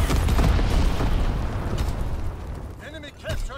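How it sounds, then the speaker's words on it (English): Incendiary bombs from an enemy bomber bursting during a Call of Duty: WWII multiplayer match, a loud rumbling roar of explosions filling the first seconds before easing, with game voice announcements and swooping sound effects at the end. "Incendiary bombs incoming."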